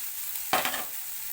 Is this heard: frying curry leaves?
yes